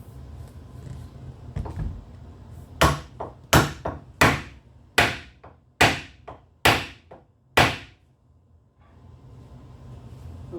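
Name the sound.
hammering a cup center into a wood spindle on a workbench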